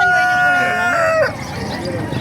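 A rooster crows loudly and close at an animal market in Calumpit, Bulacan, a long wavering call that breaks off, followed by clucking amid market bustle and people talking.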